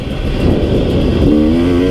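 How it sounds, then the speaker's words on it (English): A 2018 KTM 250 XC-W TPI fuel-injected two-stroke motorcycle engine runs loud and close, then revs up with a rising, buzzy tone in the second half. "fuel injected 2-stroke from KTM, the KTM 250 XC-W TPI. This motor is a ripper."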